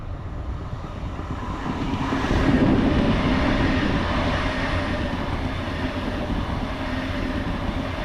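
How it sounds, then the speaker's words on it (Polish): An Express Intercity Premium train rolls slowly past at Warszawa Toruńska, a steady broad rumble of wheels and rail noise that swells gently in the middle and holds on, with no voices. "Dosyć powoli jedzie Express Intercity Premium"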